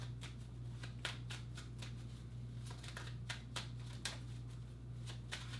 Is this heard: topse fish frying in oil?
no